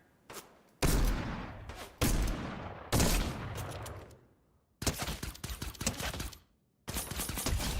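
Rapid bursts of gunfire from a shooter video game, several loud volleys of repeated shots with short gaps between them and no talking.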